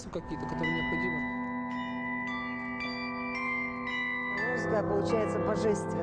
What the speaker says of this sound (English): It sounds like a bell which weighs several tons.